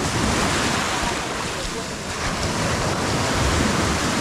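Sea waves wash steadily at high tide on Praia dos Carneiros beach in Tamandaré, Pernambuco, a loud, continuous surf roar with wind buffeting the microphone throughout.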